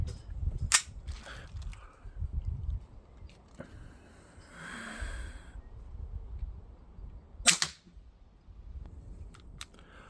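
Springfield Armory XDM 3.8 Compact CO2 pistol firing 4.5mm BBs, two sharp, close snapping shots several seconds apart over a quiet background with faint handling noise, the slide locking back after the last shot.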